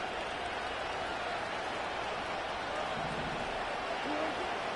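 A stadium crowd in a Madden football game sends up a broad, steady roar that sits at a moderate level behind commentary.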